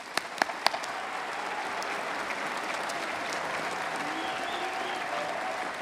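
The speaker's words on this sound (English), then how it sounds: "Round of applause." A few sharp individual claps open into sustained, even applause from a large crowd at a college commencement ceremony, steady and moderately distant throughout.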